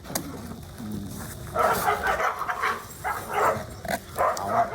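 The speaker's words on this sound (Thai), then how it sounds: "ระหว่างนี้ฟังเสียงหมากัดก่อน" Dogs bark and yelp in rough, overlapping bursts, a scuffling tussle of several animals at moderate distance with no talking.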